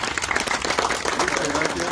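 An audience at a community gathering in Tarumandy, Luque, applauds loudly with dense, continuous clapping, mixed with voices.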